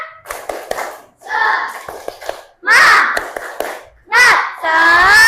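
Children at an elementary school clap in short rhythmic bursts while chanting together loudly, with an adult teacher's voice leading between the rounds.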